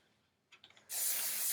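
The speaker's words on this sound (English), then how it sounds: "Just gonna spray my hair again, smooth it," Hairspray hisses onto hair being smoothed into a dance bun, a loud steady aerosol burst that starts abruptly after a few faint handling taps and holds to the end.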